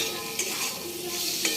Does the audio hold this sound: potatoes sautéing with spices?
yes